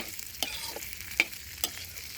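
Cheese meatballs stir-fried with holy basil and chillies in a pan: a soft, steady sizzle broken by a few sharp spatula scrapes and clicks against the metal.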